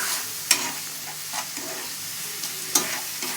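Spice masala for spinach paneer being sautéed and stirred in a pan, with a soft steady sizzle broken by a few sharp spatula scrapes, close and fairly quiet.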